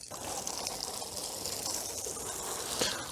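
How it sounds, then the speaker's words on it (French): A watering bulb sprays water over onions in a garden bed, producing a soft, continuous hiss and patter that holds steady for a few seconds, with a slight rise near the end. "j'utilise la poire d'arrosage sur les oignons pour bien répartir l'eau"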